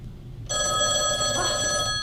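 A telephone bell rings loudly and steadily, starting abruptly after a brief quiet moment and continuing in a sustained trill to the end, with no talking over it.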